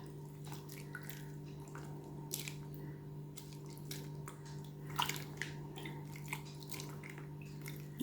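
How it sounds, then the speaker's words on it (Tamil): Homemade butter made from collected milk cream is worked by hand in a bowl of ice water, giving soft, scattered squishes, drips and splashes over a steady low electrical hum. "இந்த மாதிரி ஐஸ் தண்ணி எடுத்து போட்டுக்கோங்க ஐஸ் தண்ணியில் போட்டிங்கன்னா உங்களுக்கு கழுவுறதுக்கு ஈஸியாக இருக்கும்"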